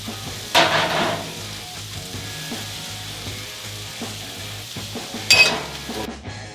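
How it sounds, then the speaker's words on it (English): Vegetables sizzle in avocado oil on a flat Blackstone griddle in a steady crackling hiss, with two brief louder bursts as food is stirred or moved across the hot surface. "There's that sizzle that we like to hear."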